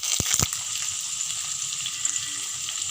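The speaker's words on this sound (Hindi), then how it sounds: "अब हम इसमें ये भिंडी डाल के फ्राई करेंगे" Okra is shallow-fried in hot oil, a steady close sizzle with a couple of sharp clicks at the start, continuing evenly throughout.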